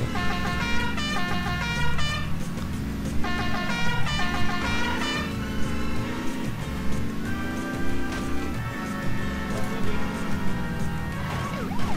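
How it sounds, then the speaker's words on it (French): Car horn honks in The Simpsons Hit & Run video game, repeated bright tooting bursts over a busy backdrop of game music and traffic sounds, moderately loud throughout. "J'adore ce klaxon, franchement."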